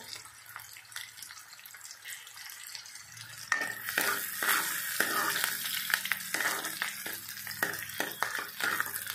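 Spiny gourd fries in a pan with onions and green chillies, a quiet hiss for a few seconds that swells into louder sizzling with repeated scraping stir strokes.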